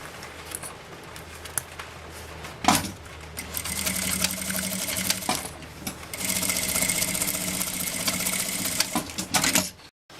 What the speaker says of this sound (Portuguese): E vou passar uma costurinha bem na pontinha da alça, dá um retrocesso